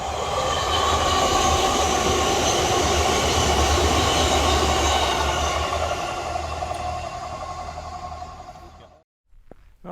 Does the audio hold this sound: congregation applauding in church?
no